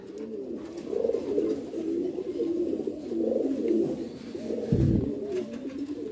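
Pigeons in a coop with numbered nesting boxes coo in soft, repeated rolling phrases, close and continuous, with a short low thump near the end.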